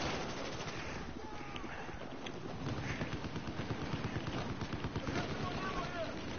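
Rapid gunfire and explosive pops from a grenade launcher in the Battlefield 4 video game, a dense, continuous barrage of close shots with a steady rhythm, mixed with other battle noise and brief player chatter.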